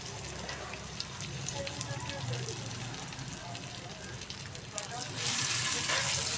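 Potatoes go into hot ghee with cumin and ajwain and set off a steady close sizzle and crackle that swells louder near the end; talk is faint or absent.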